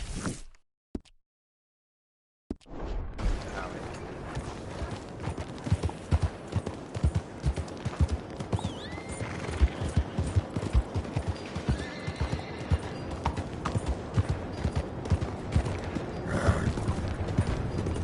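Horse hooves clip-clop steadily in Red Dead Redemption II, a continuous close trot with an occasional whinny after a brief silent gap at the start.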